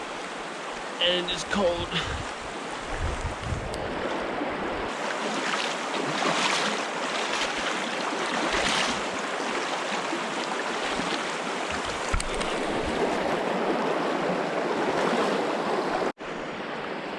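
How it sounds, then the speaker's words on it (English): Rain and river water splash steadily around a hiker wading through a cold river crossing in Chile, a broad continuous rush filling the clip, with someone speaking briefly early on. "It's raining now as well. Water is hitting me from all sides"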